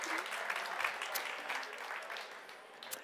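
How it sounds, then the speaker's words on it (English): Audience applause for two ambassadors at an opening event, a steady dense patter of clapping hands in a room, fairly even throughout and tapering slightly at the end. "So give a warm applause to Carl-Fredrik and Cajsa, our ambassadors for this year."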